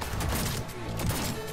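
Powerful weapon fire in Cyberpunk 2077, a dense burst of fusillade-like shots packed tightly together, loud and continuous over busy game sound with no clear gaps between blasts.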